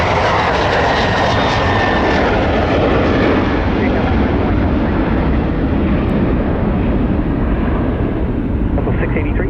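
A jet airliner takes off from runway 30 left at Minneapolis–Saint Paul airport, a loud, sustained roar that slowly fades as it climbs away, with radio voices faintly underneath.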